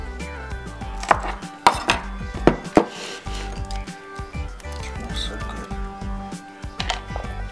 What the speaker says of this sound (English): And he's going to chop